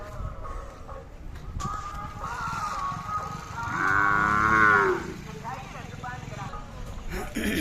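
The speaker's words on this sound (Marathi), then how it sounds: "अशा प्रकारचे आहेत बैल पाहू शकता शेतीकामासाठीचे मजबूत खिल्लर आहेत" Khillar bulls at a village cattle fair, with one long, loud moo midway, flies buzzing, and someone talking over the scene.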